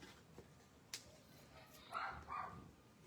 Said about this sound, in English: My dogs are barking